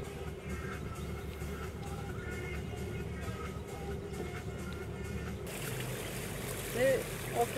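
A motorboat cruising along the Göta Canal in Sweden, its engine a steady low drone with water rushing alongside, changing to a brighter wash of water and wind near the end; people talk over it.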